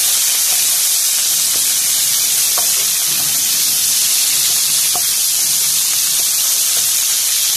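Cuttlefish frying in a hot pan, a steady loud sizzle and hiss running throughout with a few faint clinks, no voices.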